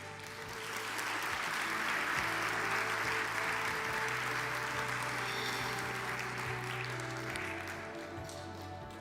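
A church congregation at a Palm Sunday service bursts into steady, full applause that swells and holds, over a low sustained hum from the room, then tapers slightly near the end.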